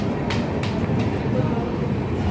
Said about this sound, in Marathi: आणि इथेच येणार आहे आमची ट्रेन